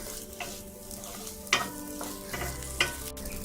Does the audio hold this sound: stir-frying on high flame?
yes